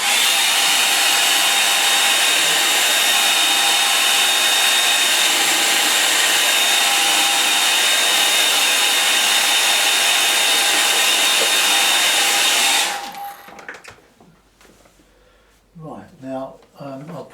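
Hair dryer blowing over a wet watercolour painting, a loud steady whirring roar held for about thirteen seconds before switching off, followed by someone speaking.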